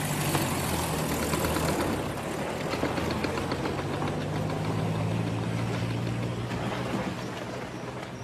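A van engine runs with a heavy, low knocking rumble, close and steady throughout, with no voices over it.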